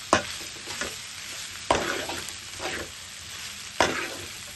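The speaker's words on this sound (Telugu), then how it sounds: "స్టవ్ హై ఫ్లేమ్లో పెట్టుకుని రెండు నిమిషాలు ఇలా కలుపుకోవాలి" Pasta being stirred in a pan over a high flame, with a steady sizzle and frying crackle punctuated by three sharp scraping strokes of the spoon against the pan, close and with no talking.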